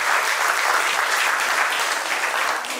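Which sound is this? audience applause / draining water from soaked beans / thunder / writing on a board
audience applause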